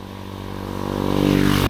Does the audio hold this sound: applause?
no